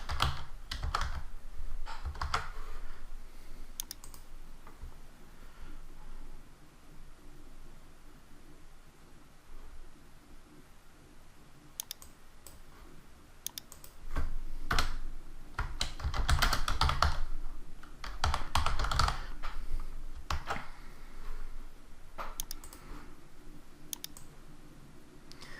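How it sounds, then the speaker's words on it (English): Fingers type steadily on a computer keyboard nearby, a long run of light clicking keystrokes with a denser, busier stretch midway and short pauses between bursts. "I'm going to type in some text."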